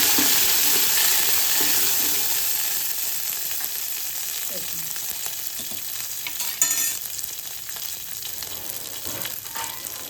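Close, steady sizzling of coriander hitting hot oil, a continuous crackling hiss with occasional stirring clinks and no talking.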